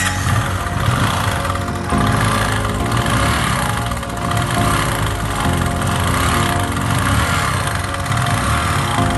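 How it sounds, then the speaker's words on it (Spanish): Bajaj Pulsar 135 LS motorcycle engine running at a steady idle, loud and close, with an even broadband drone that continues for the whole stretch without speech. The chain tensioner problem may not be audible. "Voy a prender la motocicleta."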